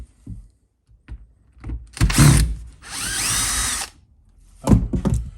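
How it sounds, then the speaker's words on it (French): A cordless screwdriver backs two screws out of a torch, with two loud whirring bursts, the second longer and steady, between brief clicks and handling knocks nearby. "Pour enlever, il va vous falloir une visseuse."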